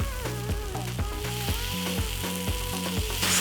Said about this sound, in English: I'm going to add some spring onion.